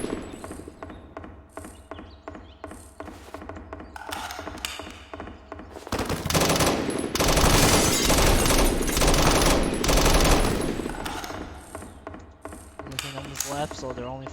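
Rapid bursts of gunfire in the BRM 5 military shooter, growing dense and loud in the middle stretch with mechanical clicks and rattles throughout, no voices.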